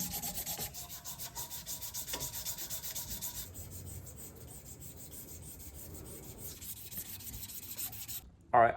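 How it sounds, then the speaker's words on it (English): A forged chisel's wooden handle is hand sanded by pulling a strip of abrasive back and forth around it, a rhythmic rubbing that starts loud and eases, ending with a short louder knock. "I'm gonna be using the shoe shine method on this handle to sand it."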